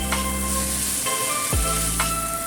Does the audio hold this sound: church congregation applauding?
no